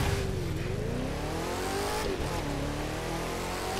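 A TVR car accelerates in the racing video game The Crew 2, its engine drone loud and continuous with shifting pitch and a brief dip near the middle, with no voices.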